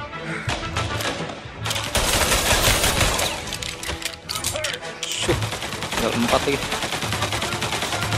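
Rapid rifle gunfire in the crime shooter Mafia: Definitive Edition, a dense run of loud, sharp shots firing almost continuously, with a voice speaking briefly over the battle noise.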